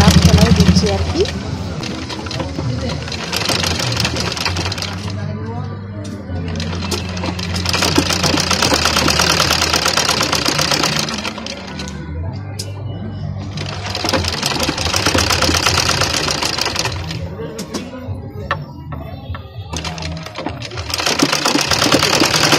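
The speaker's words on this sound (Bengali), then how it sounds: "সেই পেটিটা লাগানো হচ্ছে একটা দাগ সেলাই দিচ্ছি আর কি" A sewing machine runs in loud, steady bursts as it stitches the neck strip onto a blouse, pausing briefly between runs, with someone talking over it.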